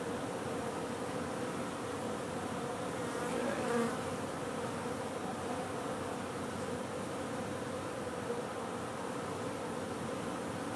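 Honeybees buzz steadily inside a hive as they cling together and build comb, a dense, even hum heard up close and fairly quiet, with no voices.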